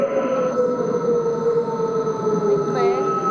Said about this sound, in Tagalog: Busina ang tren